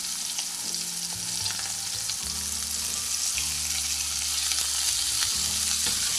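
Broccoli fries and sizzles in a pan while being stirred, giving a constant hissing crackle with scraping stirs and low repeating background music; no one speaks.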